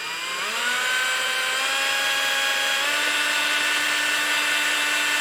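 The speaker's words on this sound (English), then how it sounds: "I'm just going to run this thing with a drill as if it would be on the engine" A power drill spins a Datsun 260Z/280Z distributor, whirring steadily, its pitch rising quickly as it spins up and then holding a constant high whine.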